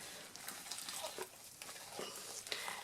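A spoon stirs and scrapes hot-process soap with sulfur, bentonite clay and activated charcoal in a pot, producing quiet, uneven scraping strokes over a faint background hiss, with no talking.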